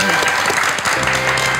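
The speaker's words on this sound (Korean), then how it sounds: "박수 부탁드립니다" An audience applauds at a televised talk show as a historian guest is introduced, a brief, loud burst of clapping that fills the moment.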